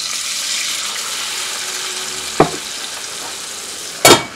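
Sliced small onions and a cup of water hitting a hot frying pan, giving a steady soft sizzle throughout with two sharper bursts of hissing and clatter, the louder one near the end.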